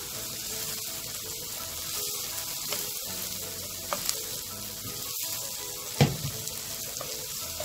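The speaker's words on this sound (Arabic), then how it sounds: "هشوحه مش هحمره، هو يا دوبك يدبل" Chicken liver and gizzards with onions sauté in a pan, giving a continuous soft sizzle with a few faint clinks and one sharper knock of a utensil.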